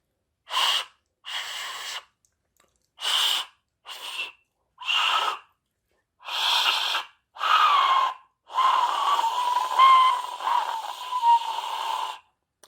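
A breathy, shrieking 3D-printed Aztec death whistle is blown in a series of short bursts, then longer wavering screeches that change tone with the force of the breath.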